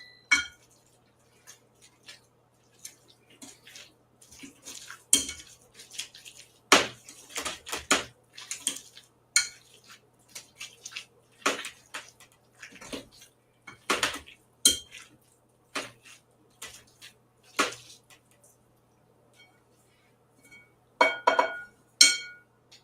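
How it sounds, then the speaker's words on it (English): Masher working through a chickpea burger mixture in a bowl, giving irregular clinks and soft squelching knocks in uneven bursts, close and moderately loud with quiet gaps between strokes. "I'm about halfway done mashing up everything together"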